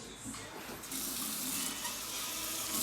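Tap water gushes and splashes steadily into a sink during household cleaning, a close, continuous broadband rush that grows slightly louder partway through, with a faint voice underneath.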